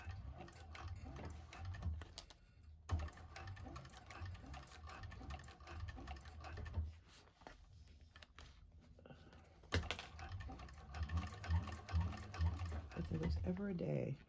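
Rapid mechanical stitching from a 1341 cylinder arm sewing machine sewing a bag upward over a thick hump, running in close bursts with brief pauses while a person talks.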